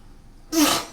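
A single sudden sneeze, close and loud, bursting out after a quiet half second and trailing off at the end.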